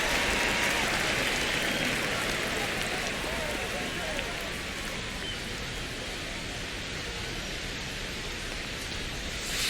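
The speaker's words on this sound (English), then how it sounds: "This rain is not letting up." Steady heavy rain pours down on a baseball stadium in MLB The Show, a constant even hiss that holds from start to finish with no talk over it.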